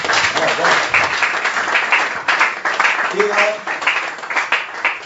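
A church congregation applauds and cheers in praise of Jesus during a French-language worship service, a dense, steady wash of clapping lasting throughout with a voice speaking over it.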